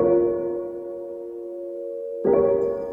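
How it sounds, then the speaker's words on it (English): A sustained piano chord in a depressive black metal song, made in FL Studio, rings and slowly decays, then a fresh chord is struck near the end, clear and fairly soft with no talking. "Then we get the piano."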